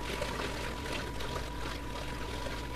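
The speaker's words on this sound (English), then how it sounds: "Getting the siphon started just might be the hardest part of siphoning the sand out of the tank." Siphon hose pulling sand and water out of a 300-gallon reef tank, giving a steady, even rush of gushing flow that holds at a constant moderate level throughout, with no talking.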